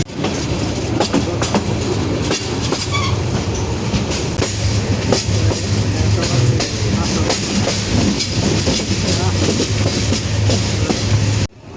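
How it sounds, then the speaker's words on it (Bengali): A passenger train runs through tea gardens in Sylhet, Bangladesh, on a rainy morning, its wheels giving a steady clickety-clack and rumble heard close up from inside the carriage, continuous and loud with no pause. "এখন আমাদের ট্রেন যাচ্ছে সিলেটের চা বাগানের মধ্য দিয়ে।"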